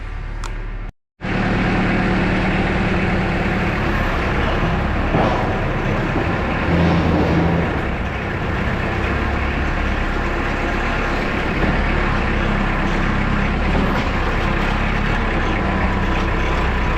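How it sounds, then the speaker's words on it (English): A tractor engine runs in a steady, loud, low rumble close by for the whole stretch after a brief dropout at the start, with no talking over it. "So we'll get the tractor over there, and then we'll get to cutting."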